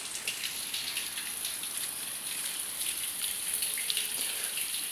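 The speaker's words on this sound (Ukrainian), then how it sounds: "З-під асфальту вода біжить." Water gushing up from a burst water main under asphalt on a city street, a steady broadband rushing and splashing that stays constant and fairly close throughout, with no talk.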